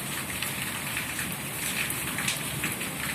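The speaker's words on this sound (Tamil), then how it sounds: "மழை பெய்யுது" Steady rainfall, a dense continuous hiss of drops pattering on surfaces with no break, no voices over it.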